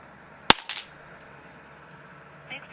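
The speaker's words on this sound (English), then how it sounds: "Go ahead and take a shot." A single sharp report from a Huben GK1 semi-automatic air pistol, loud and close, followed by a brief fainter metallic clatter, then quiet room tone with a faint tick near the end.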